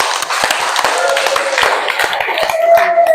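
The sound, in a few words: classroom applause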